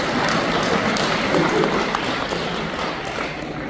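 Applause at a Daegu-Gyeongbuk regional association lecture for the standing vice-presidents, a dense crowd clapping throughout that thins slightly near the end, with voices mixed in.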